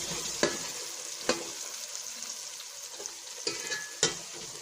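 Tomatoes fry in a pan for dhaba-style lobia masala, a quiet sizzle punctuated by five sharp scrapes and knocks of a spoon stirring at irregular intervals, no talk.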